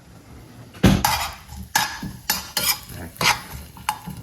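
A stainless steel serving spoon stirs ginger in a hot, oily pan, giving five or six loud metallic scrapes and clacks at a steady pace over a light sizzle.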